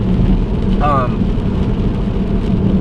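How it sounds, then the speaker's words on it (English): A BMW 328 drives in the rain, heard from inside as a loud steady rumble of road and rain noise, with a short voice passing briefly over it. "There's something about driving a BMW in the rain."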